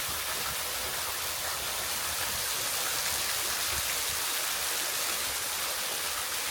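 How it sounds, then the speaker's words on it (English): Glory Hole waterfall pouring straight down through a hole eroded in solid rock, a steady, dense broadband rush of falling water that holds even and unbroken throughout, with no voices. "the Glory Hole waterfall has eroded its way through solid rock, allowing the water to flow straight down from above"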